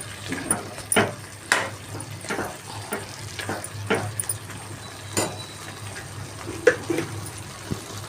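Spoon scraping through an egg, drumstick and tomato curry as chili powder is stirred in, giving repeated rhythmic scrapes and clacks against the pan over a soft, steady sizzle, close and fairly quiet.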